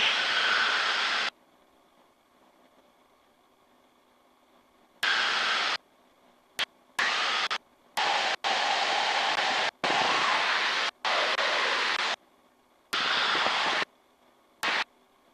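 Light airplane engine drone in flight, a steady loud roar broken into repeated bursts separated by silent gaps, heard close from inside the cabin with no talking.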